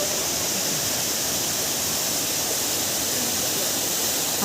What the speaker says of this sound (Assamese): আপুনি যদি ভাবিছে এই জলপ্ৰপাত চাবলৈ যাওঁ